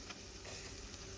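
Spices sizzling in hot oil for a kadhi tempering (tadka), a steady, soft, hissing fry with faint crackles, close by and with no talk.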